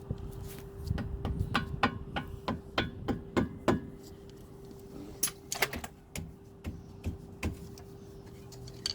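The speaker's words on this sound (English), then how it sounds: "a little bit of gentle tapping with the hammer, the mallet" Light, sharp taps from a mallet tapping brake pads into place on a Seat Leon Cupra R's Brembo brakes, in quick irregular bursts, close by, with short pauses between runs and a faint steady hum behind.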